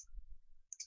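A couple of soft, quick mouse clicks close together near the end, faint against a quiet low background hum.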